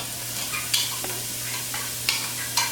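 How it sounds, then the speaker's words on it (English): Onion sautéing in a hot pan, a steady close sizzle with a few distinct spatula stirs and scrapes, no speech. "And we just want to saute the onion until it's soft."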